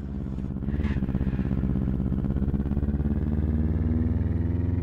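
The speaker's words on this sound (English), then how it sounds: "Engine sounds a little weird, but that's fine." A car engine in a racing video game roars in a steady, buzzing drone with a rapid pulsing rhythm and a slight pitch rise, loud and alone.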